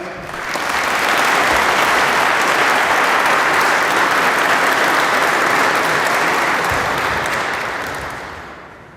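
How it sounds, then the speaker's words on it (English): Applause at a public safety award ceremony honoring the Newark Fire Division, a loud, dense roar of clapping from a large crowd that swells quickly, sustains evenly, then fades near the end. "How about another round of applause for our North Fire Division?"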